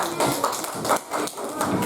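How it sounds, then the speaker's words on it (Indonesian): A class of students clapping in a classroom, a fairly loud, uneven burst of hand claps that swells and dips over a couple of seconds, with some voices mixed in. "Oke, silakan tepuk tangan."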